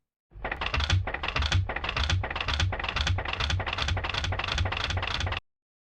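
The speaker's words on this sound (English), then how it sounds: "Some motor noises." A motor effect from the Warner Brothers sound effects library, a steady rapid mechanical chatter pulsing about twice a second for five seconds with a low rumbling undertone, loud and close, then cutting off abruptly.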